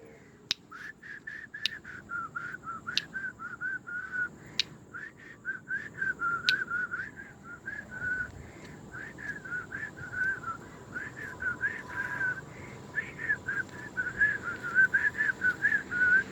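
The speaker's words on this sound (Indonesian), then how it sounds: "Ayo, gua udah bersiul." Someone whistles a steady, warbling tune for a long stretch, growing louder toward the end, punctuated early by several sharp finger snaps, with no talk.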